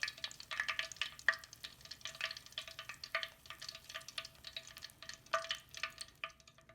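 Shrimp tempura frying in oil: quiet crackling and soft bubbling pops in irregular bursts, faint and close, with a few brief scraping movements.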